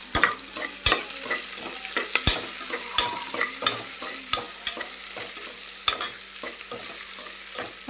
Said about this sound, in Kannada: ಎಣ್ಣೆ ಒಳಗೆ ಫ್ರೈ ಆಗಬೇಕು.